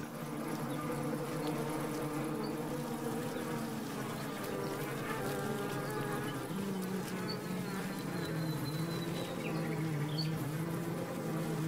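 A dense, steady buzzing of many honeybees fills the whole stretch, droning continuously with shifting tones and no voices.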